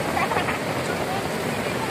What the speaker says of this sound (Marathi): अशा पद्धतीचा धोधो पाऊस आहे